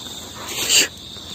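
A cricket chirps in an outdoor setting, one brief, fairly close trill rising over a steady background insect drone, with no talk during it.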